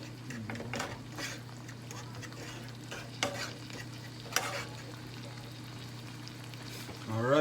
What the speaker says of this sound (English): Now everything, just gonna saute this here.